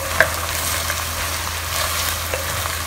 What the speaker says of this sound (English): Slowly pan fry the pork until the meat turns brownish.